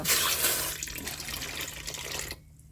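Yanang leaf juice poured from a container into a cooking pot for a Thai bamboo shoot curry, a steady close splashing trickle that runs for about two seconds, then cuts off abruptly.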